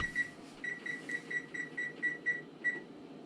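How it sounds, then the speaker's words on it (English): A quiet electronic timer beeps repeatedly in a steady rhythm, about a dozen short tones over a low hum. "We'll make sure we set the timer here."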